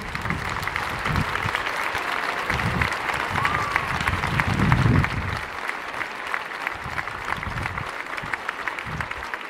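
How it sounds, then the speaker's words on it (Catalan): Sustained crowd applause at an outdoor rally in the Mercadal square marking the first anniversary of 1 October, steady dense clapping throughout with a brief swell near the middle and faint voices mixed in. "sí, aquest aplaudiment i tant per ells."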